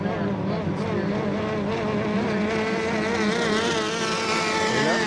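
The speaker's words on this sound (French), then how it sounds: "qui est propulsé par un moteur Pontiac J. White Air obtient de bonne vitesse." Racing boat Hot Shot with a Pontiac engine speeding past at regattas in Valleyfield, a loud continuous high-revving engine whine with shifting pitch throughout, close and steady.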